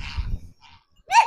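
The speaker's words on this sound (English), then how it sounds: "You don't even know what you're barking at." A dog on a homestead gives one sharp, fairly loud bark at the end, after a softer, muffled sound and a short silence.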